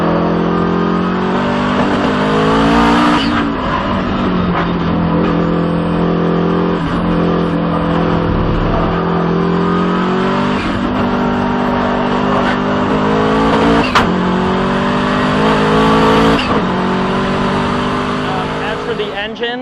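Twin-turbo 2.3-liter Subaru Impreza RS engine running at length with steady, slowly rising and falling revs, loud and close, while someone talks over it throughout.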